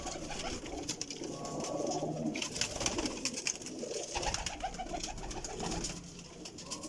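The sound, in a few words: pigeons cooing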